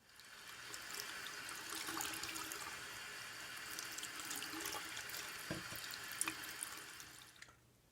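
Running water rinses rust dissolver jelly off a metal part, a steady close splashing stream with faint drips and patter that holds for several seconds, then cuts off abruptly at the end.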